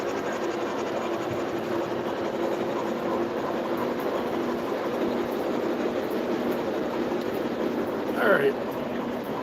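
Trains running during a livestream: a steady rumbling rail sound with faint clickety-clack continues throughout at moderate level, with a brief higher squeal near the end.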